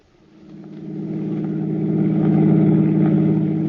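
A car drives toward a toll bridge over the Hudson River as a radio drama effect: a steady engine hum that swells from quiet to a loud, sustained drone, close by and with no talk over it.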